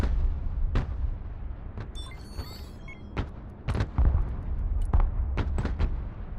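Artillery booms repeatedly in the war video game Broken Arrow, about ten heavy thuds and sharp cracks at irregular intervals, some close and loud, over a rumbling battlefield background with brief radio-like beeps.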